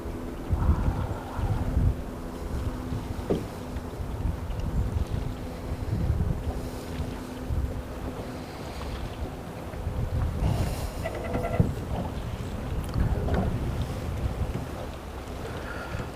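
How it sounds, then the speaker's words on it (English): Steady wind buffeting a boat, with low rumbling gusts and flapping noise on the microphone throughout, no voices. "The wind is still hitting me in the face"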